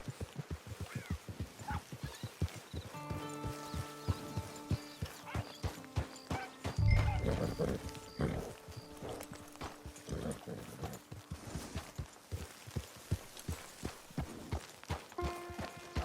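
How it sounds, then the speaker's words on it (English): A horse walks in the video game Red Dead Online, its hooves clip-clopping in a steady, close rhythm, with a brief louder thump midway, soft in-game chatter and occasional tonal cues underneath. "It's your horse."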